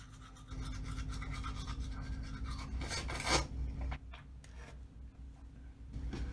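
Toothbrush scrubbing the tongue and palate up close, rapid scratchy rubbing strokes that pause briefly midway and resume near the end.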